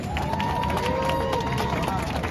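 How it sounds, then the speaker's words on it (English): Crowd applauding for a speaker named Eugene at a New York City rally near Grand Central Madison, steady clapping and cheering over a loud, busy background with a faint tonal hum. "Let's give Eugene another round of applause"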